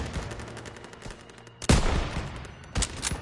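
Gunfire in the World War II shooter Call of Duty WW2: scattered rapid rifle and machine-gun shots, with a loud close blast near the middle and another sharp burst just before the end, no voices.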